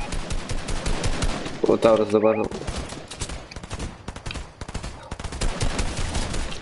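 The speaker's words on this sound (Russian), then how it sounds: "Вот стрельба идет при нами прямо" Gunfire in an online shooter game: sharp rapid bursts and scattered single shots crackle through the whole stretch, with a brief tonal in-game effect near the start, while players talk over it.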